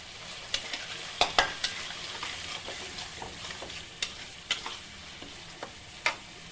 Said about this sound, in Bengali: এবারটা ভাজা আলু দিয়ে দিয়েছি, দিয়ে আরও ভালো করে কষিয়ে নিয়েছি।